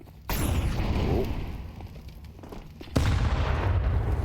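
A grenade blast in a Counter-Strike pro match lands with a sharp boom and rumbling decay, followed by a second heavy burst about three seconds later, both loud and close.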